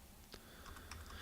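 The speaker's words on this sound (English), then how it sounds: "So on my keyboard, I'm hitting the arrows to find exactly the point where I want to cut." Arrow keys tapped on a computer keyboard, a few faint, quick clicks spaced irregularly over a low background hiss with no talk.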